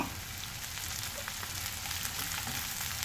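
Sliced onion and curry leaves fry in a hot pan for a roasted-coconut chow-chow curry, giving a dense, even crackling sizzle at close range that holds steady throughout without speech.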